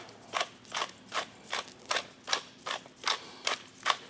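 A pepper mill cranks fresh pepper in about ten quick, evenly spaced gritty crunches. It is close and fairly quiet in a kitchen while a lobster roll is being made, and no one speaks.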